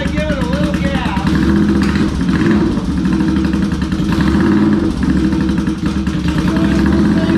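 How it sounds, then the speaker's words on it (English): A motorcycle with a stuck clutch runs loudly and steadily close by, its engine note rising and falling slightly as it is given gas, with someone talking over it throughout. "So anyway, I'm going to start this bike. So you'll want to give it a little gas."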